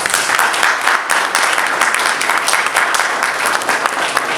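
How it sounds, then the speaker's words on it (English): A crowd at a memorial honoring a fallen police officer applauds steadily, dense clapping from many hands filling the whole stretch at a loud, even level. "this audience owes them, at the very least, a round of applause"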